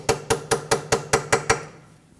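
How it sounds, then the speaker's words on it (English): A hammer strikes a punch eight times in a steady rhythm, each a sharp, ringing metal hit close by, while unpinning the staked 36mm axle nut on a 2012-2016 Honda CR-V front hub, then it falls quiet. "This is pinned over here, so you want to take a punch and undo that."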